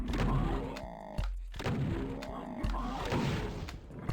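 Shotgun blasts in a Doom-style map called UNWELCOME, a few heavy booming shots spaced about a second apart, loud and close amid game noise and a voice talking.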